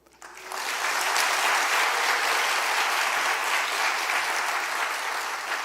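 An audience claps together in a church service, applause rising quickly and holding steady and full for several seconds before easing slightly at the end.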